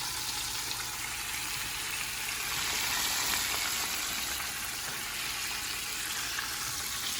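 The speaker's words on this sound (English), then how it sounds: "The oil is perfectly hot, which is great. Let's get this one in." Homemade chicken pieces frying in hot oil give a steady, loud, broadband sizzle that holds evenly throughout, with no talking.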